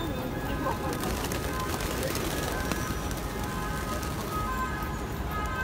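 Pigeons coo in a crowded Barcelona square, a soft continuous murmur of birds blended with steady crowd noise and indistinct voices throughout.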